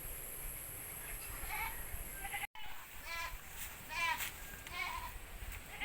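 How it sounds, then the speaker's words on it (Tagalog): Goats bleating on a Philippine farm as they are herded in, several wavering cries at moderate distance over a steady outdoor background. "Ayun na guys, yung ibang kambing na ipasok na."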